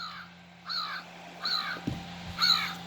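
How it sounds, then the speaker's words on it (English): An American crow caws three times in slow, evenly spaced calls, each a harsh double-edged note, from a plush bird toy's sound chip, clear over faint background hum. "American Crow."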